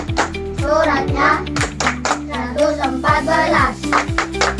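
Children clap in rhythm during a Quran clapping chant, steady hand claps beneath young voices chanting along in a classroom setting.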